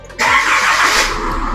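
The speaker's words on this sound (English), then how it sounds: "I'm going to start the engine." A Kantanka Omama pickup truck engine cranks and catches at close range, then settles into a steady, loud running hum.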